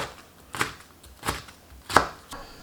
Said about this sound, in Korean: 고추는 갈기 전에 좀잘 갈리게끔 썰어주세요